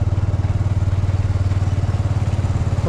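Motorcycles ride into a parking area at Madhugiri, a loud, close engine thrum with a fast, even pulsing beat that stays steady throughout.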